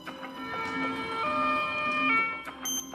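An ambulance siren wails in rising and falling tones, clear and fairly close, sounding alone for about three seconds with a brief tonal chirp near the end.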